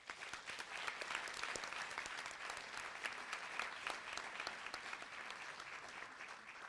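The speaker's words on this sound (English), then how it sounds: "Please join me in thanking them with a round of applause." An audience claps for about seven seconds at an NHS induction ceremony, a steady, dense wash of hands heard from within a large room, with no talk over it.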